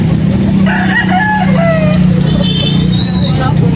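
Gamefowl at a sale, including gray and black McRae roosters: several crows and squawks rise over a constant hum of voices, with someone talking loudly throughout.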